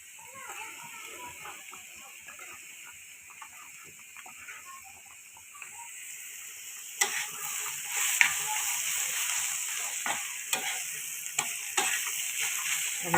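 A curry cooks in a pan with a soft, steady sizzle that grows louder partway through, with intermittent stirring clicks and faint voices in the background.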